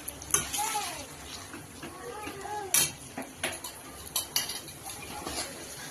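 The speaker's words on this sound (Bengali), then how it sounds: "এবার কিন্তু মাটনটা ভালো করে কষিয়ে নেবো" Mutton and potatoes being stir-fried in a pot, with irregular clanks and scrapes of a metal spoon over a soft sizzle, and a voice heard intermittently in the background.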